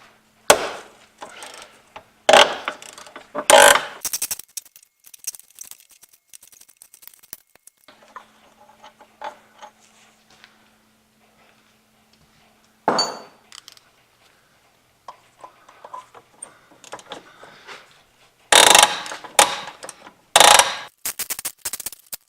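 A ratchet works 15mm bolts loose on a Jeep Commander wheel bearing, giving several short, loud bursts of clicking separated by quiet gaps and faint scraping in a garage.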